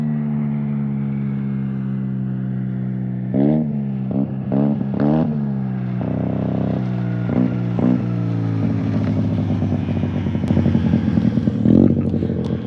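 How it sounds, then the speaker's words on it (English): A small souped-up street scooter races past on the Bonneville Salt Flats, its engine buzzing and revving in several quick bursts before fading and returning, close and loud over a steady low hum. "it's like some souped up little street scooter. He was hauling going out."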